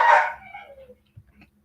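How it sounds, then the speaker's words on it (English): A big brown dog barks once, loudly and close, from inside a crate; the bark fades quickly into quiet with a few faint knocks after it. "Yes, you hear he has a loud bark now."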